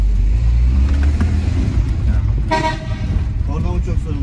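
A car horn gives a short, loud, nearby toot over steady low engine rumble in an İzmir auto exhaust and accessory shop area, with people talking around it.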